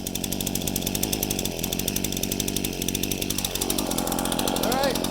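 A Champion 16-inch chainsaw runs outdoors before cutting trees, holding a loud, steady high-pitched buzzing drone with slight wavering in pitch throughout.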